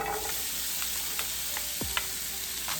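Garlic and onion fry in three tablespoons of oil for a Southern African curried beef pie, giving a steady soft sizzle broken by a few light stirring clicks, with no talking.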